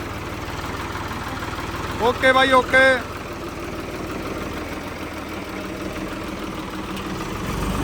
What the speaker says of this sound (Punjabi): ਪਟਿਆਲੇ ਚੱਲਿਆ ਬਾਈ ਟਰੈਕਟਰ ਸਾਡਾ ਫੋਰ 3600